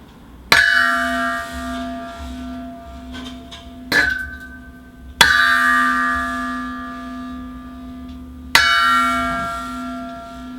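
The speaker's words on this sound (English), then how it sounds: "there's 3 sets of 3 gong sounds" A rehearsal performance's gong, struck in three widely spaced hits, each a sharp metallic clang blooming into a long, shimmering, slowly fading ring that overlaps the next, heard alone with no voices.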